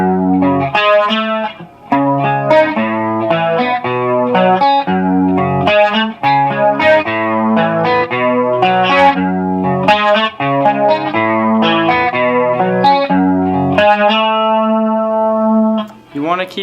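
Electric guitar plays a riff, with quick arpeggiated note patterns repeating through the passage and a sustained ringing chord at the end, clean with some effects, alone and loud.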